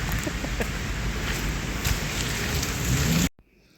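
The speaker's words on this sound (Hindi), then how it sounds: "बारिश चल रही है कंटिन्यू।" Steady rain falls on a balcony during heavy monsoon-style weather, a dense, even hiss that runs without a break before cutting off abruptly near the end.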